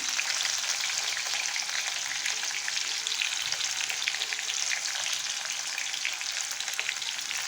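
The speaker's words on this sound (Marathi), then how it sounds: "मी लसण टाकला कांदा बारीक चिरलेला होता तोही टाकला" Garlic and finely chopped onion frying in a pan give a loud, steady, dense sizzle that holds evenly throughout with no voices.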